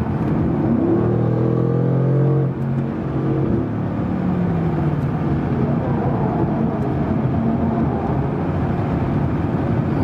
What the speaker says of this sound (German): Jetzt kriege ich leichte Windgeräusche